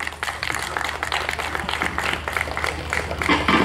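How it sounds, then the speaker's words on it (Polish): An outdoor summer concert crowd applauds to welcome a band onstage, dense sustained clapping with a low steady hum underneath, loud and even throughout. "Wielkie brawa"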